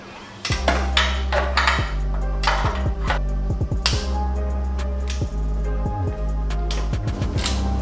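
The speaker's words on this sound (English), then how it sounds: "we'll go ahead and start cracking these nuts and studs loose" A wrench works loose exhaust header nuts and studs on a Nissan 370Z/G37, giving repeated sharp metallic clanks and clinks in an irregular rhythm, close and fairly loud over a steady low hum.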